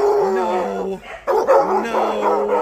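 Dogs at a county humane society animal shelter bark, yip and howl in a loud, close chorus, with overlapping whining cries and sharp barks and no talk among them.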